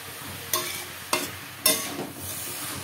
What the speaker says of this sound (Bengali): নাড়তে নাড়তে অনেকটা কমে গেছে শাকটা দেখুন